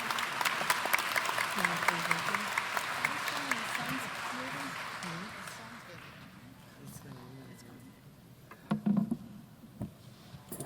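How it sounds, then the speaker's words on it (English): Clapping from an audience fills an awards presentation hall, a dense wash of applause that fades over several seconds before a few scattered claps and murmurs near the end. "let's applaud him again"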